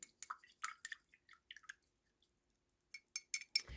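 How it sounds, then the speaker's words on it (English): A paintbrush being rinsed in water while painting ceramics, heard as close, quiet clinks, drips and small swishes in irregular bursts with a pause midway, no speech. "And then just rinse with some water here."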